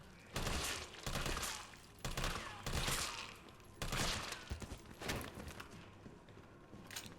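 Gunfire in the video game Resident Evil 3 Remake, repeated bursts of shots with thuds and clatter in between, faint and somewhat distant in the mix.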